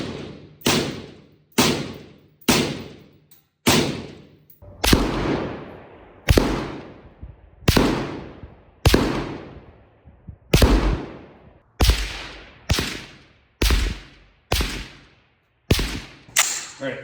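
Suppressed gunshots with a Dead Air Lazarus suppressor at 50 yards, fired as a long, regular string of more than a dozen sharp cracks, each with a short decaying tail, evenly spaced about a second apart.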